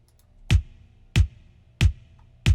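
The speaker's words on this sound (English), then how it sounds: "I added a third drum to add more of a top end punch" A punchy kick drum with a bright, clicky top end strikes four times at an even pace, each hit short and booming, programmed for a reggaeton beat and heard alone.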